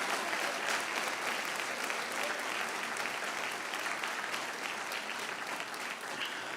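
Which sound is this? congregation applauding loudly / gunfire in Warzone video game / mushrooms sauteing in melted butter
congregation applauding loudly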